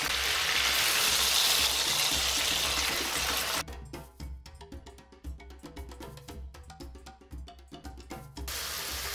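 Tomato and African spices are stirred and fried in a pan: a loud sizzle for a few seconds, then quieter crackling under repeated spoon knocks and scrapes against the pan, with no talking.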